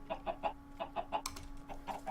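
Chickens in the Minecraft StoneBlock modpack give quick, soft clucks in small bursts of three, repeated close by at a low level.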